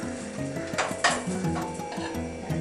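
French toast frying in ghee in a pan gives a faint sizzle, broken by a few light scrapes and clinks of a utensil against the pan, with no one talking.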